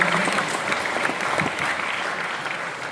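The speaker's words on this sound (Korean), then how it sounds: "박수로 많이 해주시면 고맙겠습니다" An audience at a ceremony for a presidential birthday anniversary claps steadily and fairly close, filling the whole stretch with dense, even applause that thins slightly toward the end.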